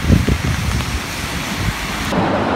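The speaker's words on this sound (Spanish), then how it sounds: "Hace demasiado aire." Rain and strong, gusting wind outdoors, loud and close, with heavy wind buffeting throughout and a steady rush of rain that swells near the end.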